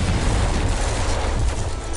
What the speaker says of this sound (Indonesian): tanah yang di dekat God berdiri tiba-tiba meledak